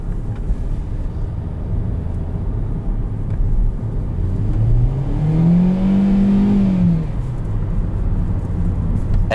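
2020 Hyundai Venue SEL small crossover heard from inside as it accelerates into an S bend, engine note rising and swelling in pitch over steady road rumble, then easing off, moderately loud and close.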